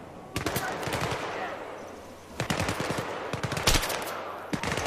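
Rapid gunfire bursts crackle through a Battlefield 3 campaign firefight, dense automatic fire in repeated clusters over a steady battle din, fairly close and loud.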